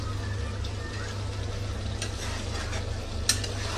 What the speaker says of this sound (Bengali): এই দেখো রান্না চলছে চিকেন।